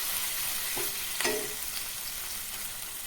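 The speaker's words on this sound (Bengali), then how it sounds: "দিয়ে দিলাম সামান্য পরিমাণ জল মশলাটা ভালোভাবে কষিয়ে নেবো" Spice masala for a small crab curry frying and being stirred in a pan, a steady close sizzle with a couple of soft spoon scrapes, no voices.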